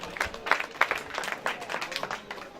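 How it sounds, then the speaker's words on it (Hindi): Sparse audience clapping greets a poet at a mushaira held at a mosque gathering, with separate claps in an uneven rhythm rather than a full ovation, fairly close, with faint voices mixed in. "पुरजोर तालियों से इस्तकबाल करें।"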